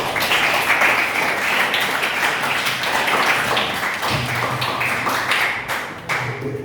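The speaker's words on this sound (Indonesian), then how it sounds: "jadi kita beri aplaus dulu untuk semuanya" A classroom of students claps together for a discussion group, a dense, steady wash of many hands at close range lasting throughout, with no talking over it.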